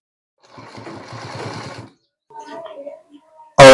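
A sewing machine stitches a straight seam on a gents shirt in a steady, fast mechanical whir of about one and a half seconds, followed by quieter handling sounds and a sudden loud burst at the end.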